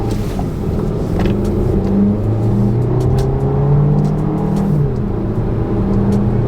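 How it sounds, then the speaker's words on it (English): A 2025 Volkswagen Tiguan R-Line accelerates on a test drive, its engine note rising steadily with gear-change dips under road and wind noise heard from inside the cabin. "But let's see how the car drives."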